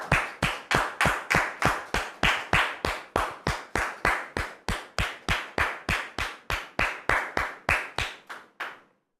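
An audience claps in steady unison to welcome guests, about two dozen evenly spaced claps at a brisk regular beat that stops abruptly.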